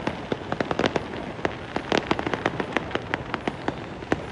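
A string of Diwali firecrackers lit all at once rattles off in a rapid, irregular volley of sharp bangs that continues without a pause, fairly close and with no talking.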